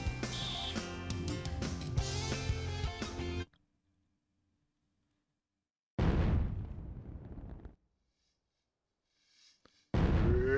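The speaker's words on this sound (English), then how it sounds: "I like how we heard the explosion happen twice." Explosion in the video game Sonic Adventure, a loud booming burst repeated twice with abrupt cutoffs and silence between, followed by a third short burst at the end.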